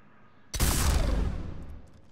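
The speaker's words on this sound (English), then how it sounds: "The new blood pack pistol." A single shot from the Blood Pack pistol in Mass Effect 3 bursts out suddenly after a short quiet, loud and punchy, then fades through a long rumbling tail.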